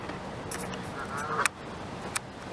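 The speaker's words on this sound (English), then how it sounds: "Whoa, it was a goose. Look at that big mean goose." A goose at a riverside fleet area gives a few faint honks at a distance amid wind and ambient outdoor noise, with a couple of brief sharp peaks.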